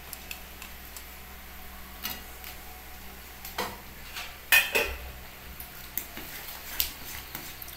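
Paneer pieces dropped into a simmering gravy in a pan, heard as soft intermittent taps and clatters of a utensil on metal close by over a low background hum.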